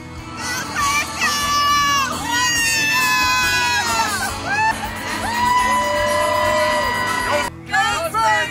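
A record-setting crowd fills the Alamo Dome for a San Antonio Spurs game, loud and continuous with whoops and shouts over a busy arena din, some whistle-like tones sliding above it and a brief break near the end.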